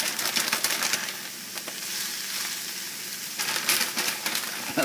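Onions, garlic and kale sizzle and crackle steadily in a hot pan, a soft continuous frying hiss with occasional stirring bursts, close and fairly quiet with no talking.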